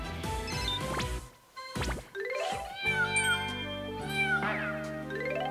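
Cats meow repeatedly at a cat café in the Power Pro baseball video game, several loud, rising and falling calls close together with game music underneath.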